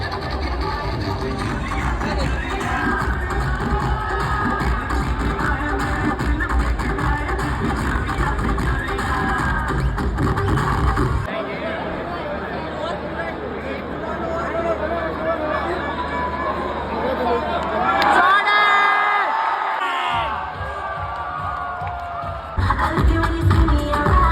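A packed stadium crowd at an India vs South Africa cricket match in Raipur keeps up a dense babble of chatter and cheering, with nearby voices talking over it and occasional louder shouts.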